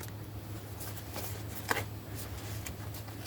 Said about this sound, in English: the cardstock is fairly thin, so it's easy to ruffle shuffle